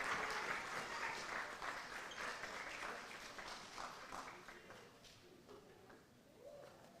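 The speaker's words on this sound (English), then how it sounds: "Let's give them another round of applause." Applause from the audience at a school board meeting, many hands clapping at once and fading gradually toward the end, with faint voices underneath.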